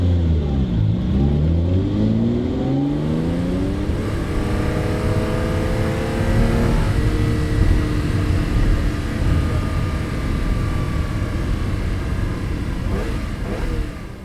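Ferrari 275 GTB4 with a quad-cam 3.3-litre V12 engine, revving up and down with rising and falling pitch, then settling into a loud, steady drone close by, with no talk over it.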